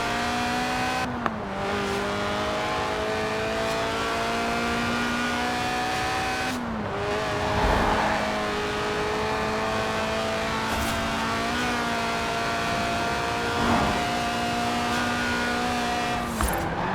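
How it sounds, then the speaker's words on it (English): A mid-engined 1990s Lotus Elise Sport 190, a stripped-out track-day roadster driven in Forza Horizon 4, revs hard through several gears. Its engine note climbs steadily, then drops sharply at each shift, close and loud, with occasional tire noise. "the Lotus Elise, a 90s classic based on the age-old roadster recipe"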